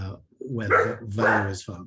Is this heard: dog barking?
yes